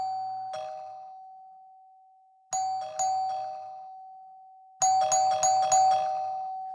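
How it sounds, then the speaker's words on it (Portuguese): Apartment doorbell rung insistently: one bright chime, then two more a few seconds later, then a rapid burst of four or five chimes close together, each ringing out and fading, with no talk. "ele passou a tocar a campainha insistentemente"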